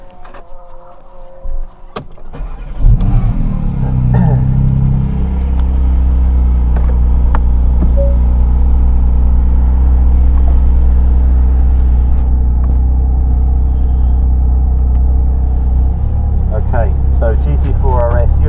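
A Porsche GT4 RS engine builds from a lower rumble into a loud, sustained accelerating drone while driving, heard from inside the cabin with steady low throb and faint interior noises.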